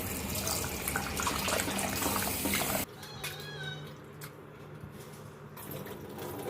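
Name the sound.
washing squid with tap water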